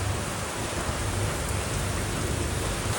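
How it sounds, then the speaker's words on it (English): Heavy rain pours in a dense, constant roar, with a low rumble of thunder rolling underneath throughout. "literally like raining sideways"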